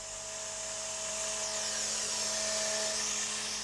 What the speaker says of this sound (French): Ce carter est détouré par une scie circulaire et usiné par fraisage